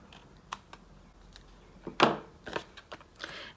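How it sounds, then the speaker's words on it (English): Scissors snip off the overhang of a partial die-cut card, a few short crisp cuts and small paper clicks heard close up with no talking. "I can just trim that off with my scissors."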